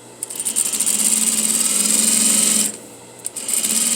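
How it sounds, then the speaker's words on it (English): A sewing machine stitches a quarter-inch seam attaching a facing to a garment bodice, running in a loud, fast, steady hum for over two seconds, stopping briefly, then starting again. "I'm going to sew a quarter seam again because I'm adding a facing to the body of the garment"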